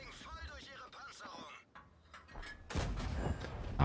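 A tank cannon shot in World of Tanks, a heavy blast erupting late and rolling on loud and close, after a stretch of mechanical clanking with someone talking early on.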